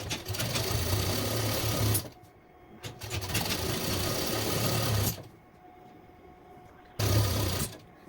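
A sewing machine stitches suit fabric in long runs of steady, loud whirring, stopping twice for brief pauses before starting again.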